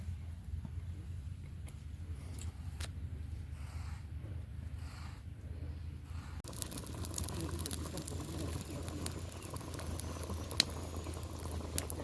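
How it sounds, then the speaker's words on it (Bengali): A cauliflower and potato curry simmers on a stove in a home kitchen, giving a faint, continuous soft bubbling that holds steady throughout. "একদিকে ফুলকপি আলুর তরকারি হচ্ছে"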